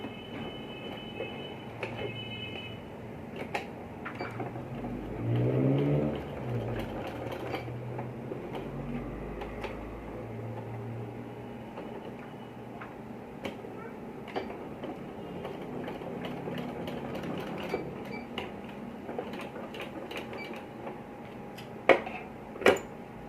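A sewing machine runs in short bursts as it stitches the outside edge of a button placket on a boys' kurta, with a rhythmic mechanical chatter, occasional louder thumps and clicks, and quiet pauses between runs.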